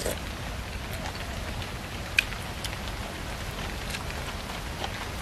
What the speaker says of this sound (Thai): ฝนมาละ